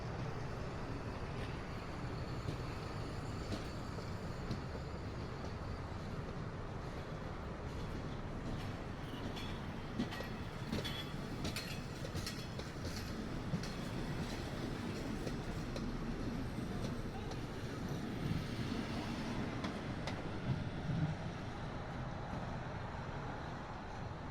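Trains at Makkasan Station on Bangkok's Eastern Line give a steady, broadband rumble throughout, with some distant traffic-like noise and a few faint clanks. No one speaks.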